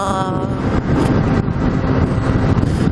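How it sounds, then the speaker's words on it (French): Strong wind buffets a GoPro microphone while riding a scooter, a continuous loud rumbling roar with gusty swells throughout. "j'en ai marre là de ce vent là"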